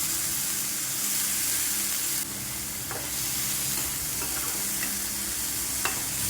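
Onion, ginger and chilli sizzle steadily in hot oil in a pan, a continuous frying hiss with a few soft stirring clicks, close and fairly loud throughout.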